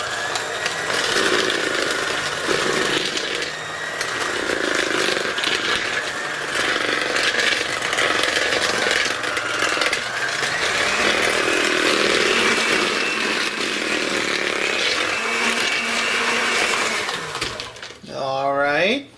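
An electric mixer beating cornstarch cookie batter runs as a loud, continuous whirring drone close by, the pitch wavering slightly as the bowl is worked, before the motor winds down near the end.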